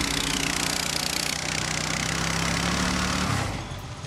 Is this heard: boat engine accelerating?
yes